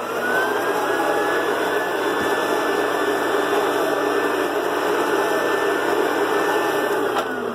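A Rainbow vacuum cleaner running at full power as it cleans a few small strips, a loud, steady whine with a sustained high tone that continues throughout.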